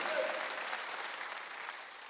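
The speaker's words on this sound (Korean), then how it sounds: "박수 한번 주세요" A church congregation at a Wednesday worship service breaks into sustained applause, a dense even wash of clapping that tapers slightly toward the end, heard without speech.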